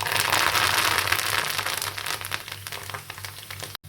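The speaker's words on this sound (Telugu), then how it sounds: "కరివేపాకు వేగింది కదా" Curry leaves hit hot oil while a grated raw mango pickle is being made, giving a loud, dense crackling sizzle that gradually thins and settles over a few seconds, close up with no speech.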